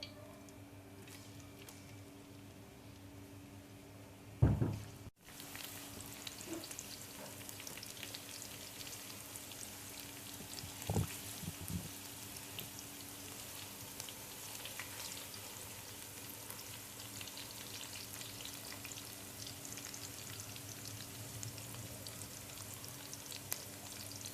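Onions sizzling in ghee in a kadhai for degi chicken biryani, a steady close frying hiss running throughout, with a sharp clatter or bump near the start and a faint knock midway.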